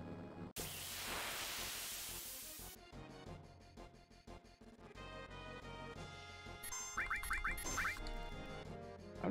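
Penguin enemies in the video game Final Fantasy 7 let out quacking, duck-like cries, with bursts of noisy battle effects and short chirping squawks near the end.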